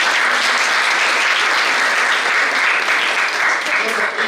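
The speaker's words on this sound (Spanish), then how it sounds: "Le damos un aplauso a Walter." Audience applause at a book launch, steady dense clapping throughout at a close, even level with no talk over it.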